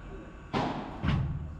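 A padel racket strikes the ball during a P100 tournament match, two sharp thuds about half a second apart, the second followed by a short lingering rumble, over a quiet court background.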